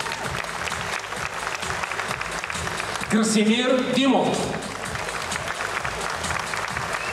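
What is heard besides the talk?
audience applause at a gala event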